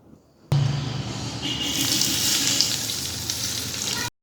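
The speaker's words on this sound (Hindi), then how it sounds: "तड़के को 1 मिनट फ्राई करने के बाद हम इसके ऊपर तड़का ऐड कर देंगे।" Sizzling hot oil tempering poured over dahi pakora in yogurt with a sudden burst, then a steady loud frying hiss that holds for several seconds before stopping abruptly.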